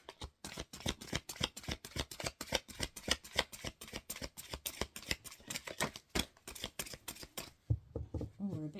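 Rapid riffling of a deck of tarot cards being shuffled, crisp repeated flicks in quick rhythm close to the microphone, then a brief pause.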